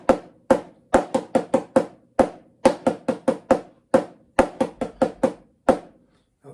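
Single paradiddles on a drum, with two eighth notes between each paradiddle, tapped with sticks in quick, uneven clusters of crisp strokes and brief pauses, close and dry, with no voices.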